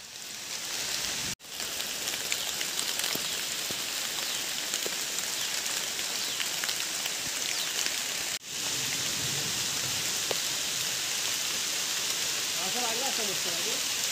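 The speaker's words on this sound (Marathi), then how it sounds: "आम्ही आता पावसामध्ये भिजतोय, आनंद घेतोय पहिल्या पावसाचा" Heavy rain pours steadily beside a river in the Konkan during the first monsoon downpour, a dense continuous hiss broken by two brief dropouts, with a few faint voices underneath.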